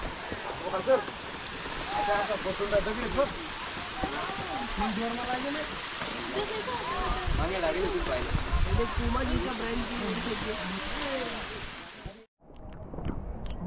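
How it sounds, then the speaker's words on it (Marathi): Rain spatters steadily on a camera during a monsoon trek up Kalsubai peak in Maharashtra, a continuous close hiss and patter with wind buffeting the microphone, then cutting off near the end. "पावसाचे थेंब पडतात कॅमेऱ्यावरती"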